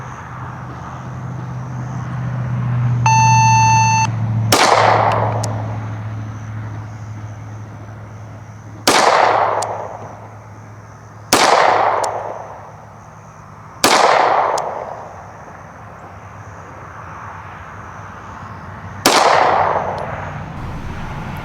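Five sharp service pistol shots fired at a target range, each a loud, close crack with a ringing tail, spaced unevenly with a longer pause before the last, after a brief electronic beep.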